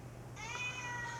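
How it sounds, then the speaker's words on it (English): A house cat gives a single drawn-out meow, faint and somewhat distant in an indoor room, over a low steady hum. "That's my cat in the background."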